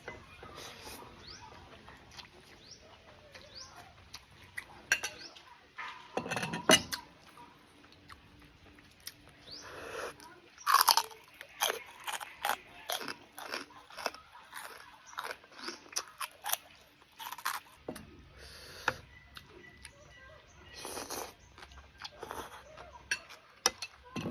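Spicy Thai papaya salad with rice noodles and crispy pork rinds being eaten, with close, irregular crunching and chewing over about twenty-four seconds, some louder crunchy bursts and brief sounds of someone talking in between.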